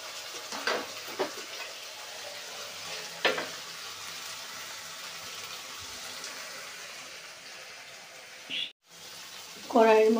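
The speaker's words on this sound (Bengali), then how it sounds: "এইবার আমি তিল আর সর্ষে পোস্ত বাটাটা দিয়ে দিলাম" A paste of sesame, mustard and poppy seed sizzles in hot oil with nigella seeds in a kadai, giving a steady, soft frying hiss broken by a few stirring scrapes and clinks.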